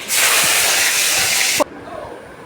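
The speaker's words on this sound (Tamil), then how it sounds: "அந்த வெங்காயத்தையும் கருகப்பிள்ளையும் அந்த வெந்தயத்தோட போட்டு நல்லா வதக்கிக்கோங்க" Onions, curry leaves and fenugreek seeds hit hot oil in a pan for fish curry, bursting into a loud, bright hiss that holds for over a second and then cuts off abruptly to a quieter background.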